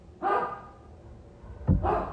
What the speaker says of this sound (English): I have a very good guard dog.